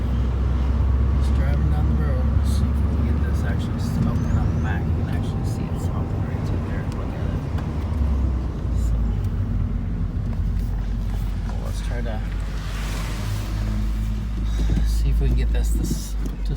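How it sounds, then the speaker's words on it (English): A 2001 Saturn SC2 with a high idle cruises down the road, a loud, continuous low engine and road rumble heard from inside the car, with a gear shift partway through. "Just driving down the road."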